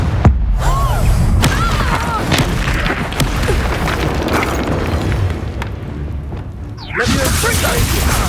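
Confringo fiery blast spell in the video game Hogwarts Legacy, loud booming explosions and crackling bursts amid chaotic combat sounds, with voices calling out during the fight.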